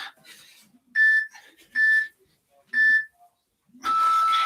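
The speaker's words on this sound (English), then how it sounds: "So you get a 3, 2, 1 timer." Electronic countdown beeps from a workout interval timer, three short steady tones about a second apart followed by a longer tone, with voices talking faintly between them.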